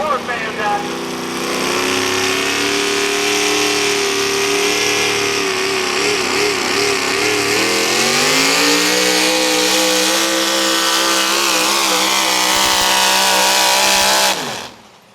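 A Ford pulling truck called Summertime Blues roars at a truck pull, its engine loud and sustained at a steady high pitch for about fourteen seconds before cutting off abruptly.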